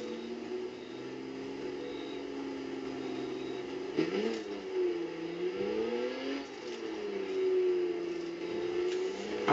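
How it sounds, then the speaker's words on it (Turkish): A car engine in the racing game The Crew hums steadily, then revs up and down in several swells, its pitch rising and falling, fairly close. "araba sesini beğendim."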